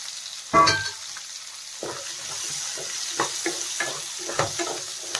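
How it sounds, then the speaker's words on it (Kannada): Curry leaves and okra fry in hot oil for an okra gravy, giving a steady soft sizzle broken by a sharp burst near the start and then repeated scraping stirs in the pan. "ಇದೆಲ್ಲ ಸ್ವಲ್ಪ ಚೆನ್ನಾಗಿ ಫ್ರೈ ಆಗಬೇಕು"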